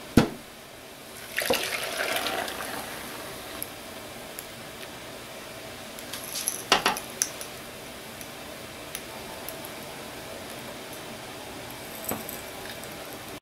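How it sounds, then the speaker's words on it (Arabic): Boiled water poured into a pan for baking cream caramel, a soft watery trickle with light clinks and taps, fairly quiet throughout. "وبعد كده احط المية اللي انا غليتها"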